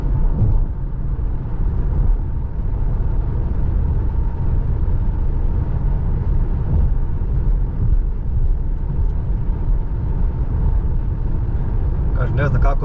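Car cruising on a rough, worn motorway near Varaždin, Croatia, with a steady loud low rumble of tyres and road noise filling the cabin throughout and a voice talking over it.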